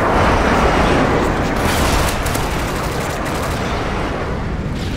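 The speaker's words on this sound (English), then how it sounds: "Friendly airstrike on the way." A friendly airstrike in Modern Warfare 3, a dense, loud barrage of explosions and rapid gunfire that rumbles on without pause, strongest at the start and easing slightly toward the end.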